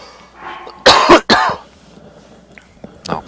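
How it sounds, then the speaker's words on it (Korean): A person coughs close to the mic, with two or three sharp, loud bursts in quick succession, then goes quiet apart from faint background sounds and a smaller throat noise near the end. "아, 갑자기 또 기침이."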